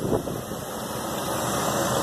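A rebuilt car engine runs steadily at idle, a constant hum topped by a thin high whine, with no talking.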